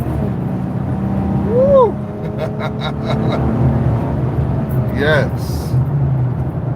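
An old-school vehicle engine drones steadily while driving, a low rumble throughout with a brief surge near the middle, as people whoop and speak over it.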